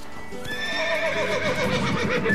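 A horse in the video game The Witcher 3 lets out a loud, close whinny with a rising and falling shaky pitch, backed by faint hoof clip-clops.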